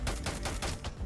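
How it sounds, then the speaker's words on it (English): Gunfire in the Starfield video game comes as a rapid burst of about five close, sharp shots over roughly one second. "It's trying to get away from the gunfire."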